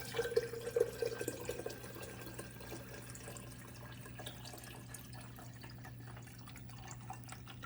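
Water pours from a filter pitcher into a coffee maker reservoir as a soft, steady trickle, quiet and close, heard alone against a faint hum.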